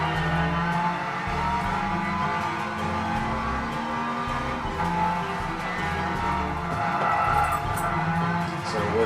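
A pink stanced Mazda Miata in a racing video game, brakes locking without ABS as tires skid and squeal over a droning engine, with a voice talking over parts of it.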